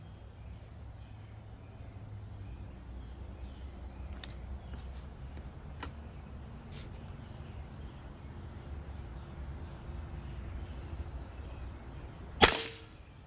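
Hatsan Invader air rifle firing a single sharp, loud crack near the end, with a few faint clicks earlier over quiet background.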